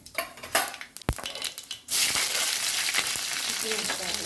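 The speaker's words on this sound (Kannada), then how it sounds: "ಎಣ್ಣೆ ಬಿಸಿಯಾಗಿದೆ. ಜೀರಿಗೆ, ಸಾಸಿವೆ, ಜೀರಿಗೆ" Cumin and mustard seeds dropped into hot oil: a few clinks and taps of a spoon on the pan, then a sudden loud crackling sizzle that carries on steadily with scattered pops.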